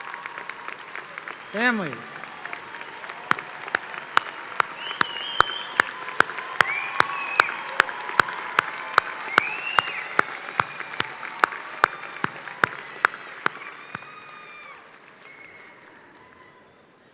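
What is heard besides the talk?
round of applause for graduates' families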